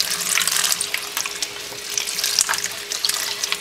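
Water from a kitchen tap streams over dyed silk hankies in a colander, a steady close splashing and spattering with fluctuating crackly patter as the stream hits the fabric.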